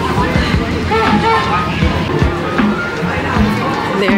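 A crowd of theme park visitors fills the clip with steady babble and chatter. Many overlapping voices and bustle stay close and continuous throughout.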